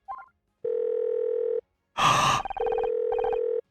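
A phone rings in the video game Murder by Numbers: two sustained electronic ring tones, each about a second long, separated by a brief burst of noisy clatter, fairly loud and with no talking over them.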